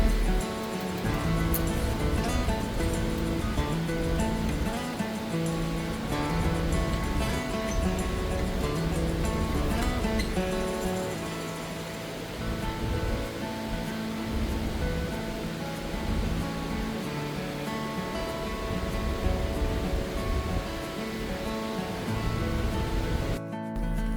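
Abiqua Falls pours in a constant, full-bodied roar of rushing water, steady and enveloping from start to finish with only slight swells, heard close and alone without any voices.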